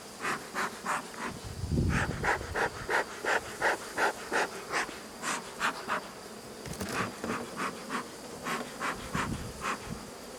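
Honeybees buzz steadily in a dense swarm around an open hive, with rhythmic pulsing hum close by and no voices.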